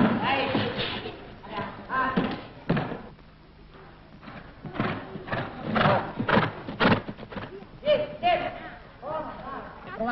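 A circus horse rehearses in the ring in a 1950 recording, its hooves thudding and clopping in irregular bursts with a brief quieter lull. Voices can be heard speaking over the hoofbeats.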